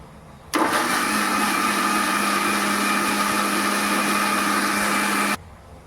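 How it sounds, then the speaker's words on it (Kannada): A mixer grinder grinds masala with added coriander powder for a chicken chops dish, running as a steady loud whirring motor drone for about five seconds before cutting off abruptly. "ಈಗ ಮತ್ತೆ ಇದನ್ನು ಗ್ರೈಂಡ್ ಮಾಡ್ಕೊಳ್ಳೋಣ"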